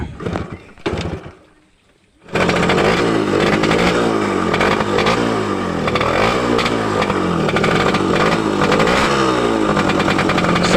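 A Suzuki RS 100 motorcycle engine fires up after its spark plug is refitted, first some short sputters, then a brief pause, then a loud, steady, close-up idle that runs on without talk.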